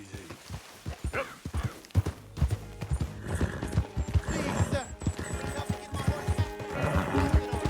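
Hooves clip-clopping in an irregular run with occasional whinnies from a horse in the game Red Dead Redemption II, mixed with clattering effects and someone talking over it.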